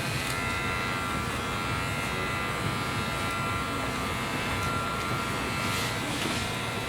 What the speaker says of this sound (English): I'm going to open up the clipper.